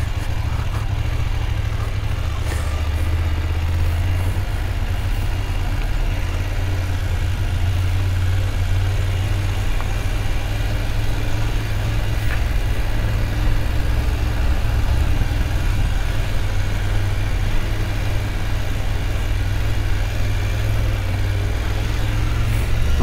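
A motorcycle engine idles steadily in neutral with a low, continuous rumble, unchanging for the whole stretch, with no talking.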